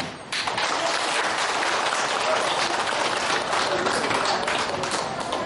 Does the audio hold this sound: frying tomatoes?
no